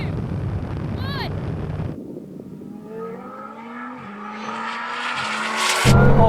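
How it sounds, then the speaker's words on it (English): A Bugatti Chiron SS and an 1,800 hp Lamborghini Huracán launch from a rolling start in second gear. Wind rush and engine roar build after a brief chirp, rising in pitch as both cars accelerate hard. "Now we're going to do a rolling race from around 40 miles an hour in second gear"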